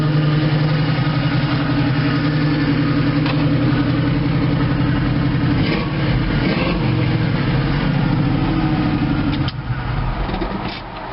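Chevrolet Nova muscle car with a big motor, stock cam and manual transmission, idling steadily and loudly up close, with a lumpy low rumble throughout and a slight change near the end.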